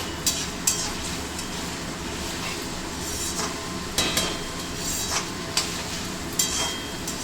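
Capsicum fries in a hot pan for egg and prawn fried rice, giving a steady close sizzle punctuated by several sharp clicks and scrapes of stirring spread through the clip.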